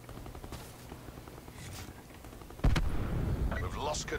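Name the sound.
gunfire in video game Call of Duty Black Ops 4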